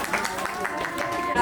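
Clapping at a ceremony with Sanskrit mantra chanting, a brief patter of hands heard alongside voices, moderately loud and irregular over about a second and a half.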